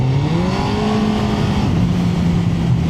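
Suzuki GSXR1000 motorcycle engine revving steadily while warming up, a loud close engine note with a rising and falling pitch that holds throughout, with no talking.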